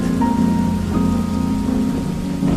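A rainstorm within a narrated story, with heavy steady rain and low rumbling thunder rolling underneath, loud and close.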